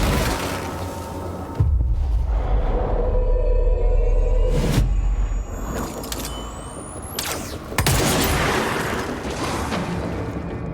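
In the game Control, a hurled exploding rock strikes an enemy: several heavy booming impacts with low rumble and mechanical crunches, loud and near, spread over a steady droning background with no talk.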